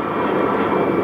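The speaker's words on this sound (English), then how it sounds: "dang plane" Airplane passing overhead near an airport, a loud, steady broadband engine roar that holds at full strength throughout, close and unbroken.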